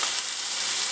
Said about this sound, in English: grab your burger, lay it away from you, and you should hear that nice sizzling